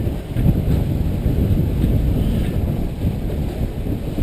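Strong wind buffets an anchored sailboat in gusts near 20 to 23 knots, a steady loud low roar of wind against the microphone and rigging with water noise, continuous with no voices.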